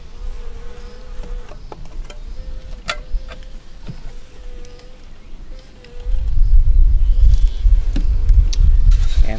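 Honeybees buzzing steadily around an opened hive frame during an inspection, a continuous close insect drone with occasional clicks, swelling louder and denser toward the end as more bees take off.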